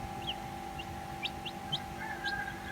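Newly hatched native cobra cross chicks, fresh from a DIY incubator, give several brief high peeps and cheeps over a steady electrical hum, close and fairly soft, with a longer chirping run near the end.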